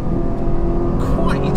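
A Ferrari 458 Italia engine is heard from inside the car during downshifts: a brief, loud, continuous engine roar with a rising, shifting tone near the end, and a voice talking over it.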